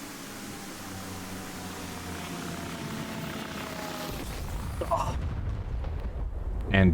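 Laser-guided rockets fired at an Apache helicopter in a video game, heard as a sustained whooshing roar with a rotor-like drone that gives way to rumbling blasts near the end.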